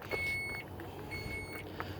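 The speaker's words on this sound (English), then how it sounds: "And here it's going to beep." Two electronic beep tones from the wheelchair ramp of a 2020 Chrysler Pacifica Touring S mobility van, each lasting about half a second, sound with a pause between them over a low engine hum.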